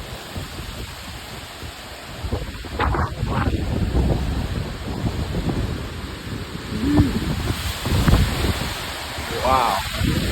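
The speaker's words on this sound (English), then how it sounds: "That wind is 100 miles an hour." Hurricane Ian's 100-mile-an-hour wind roars and buffets a microphone outdoors in a continuous loud rush with gusty surges and rattling. A voice and exclamations break through intermittently.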